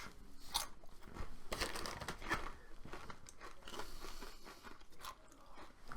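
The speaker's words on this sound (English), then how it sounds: "You do want a good crunch with the crisp" Kettle cheese and onion crisps crunched close to the mic, with irregular sharp bites and crackling chews that come quickly in the first half and then thin out, with no talking.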